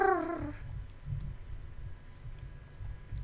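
A pet cat in the Minecraft video game purrs softly in a low, rumbling, continuous pattern, preceded by a brief higher tone at the start.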